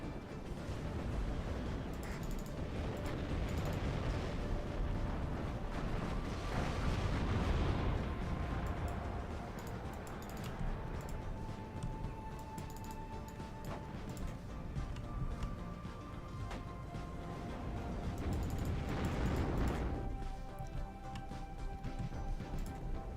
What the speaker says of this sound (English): Enemy artillery, unsurprisingly.